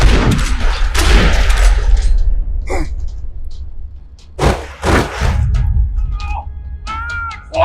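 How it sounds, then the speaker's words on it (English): Gunfire in a parking lot in the Max Payne 3 video game: a dense burst of loud shots opens, then scattered heavy single cracks and thuds follow with brief gaps, amid other game effects. "Another parking lot rattling with gunfire."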